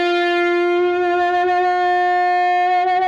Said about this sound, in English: you just hold the pedal down and it makes feedback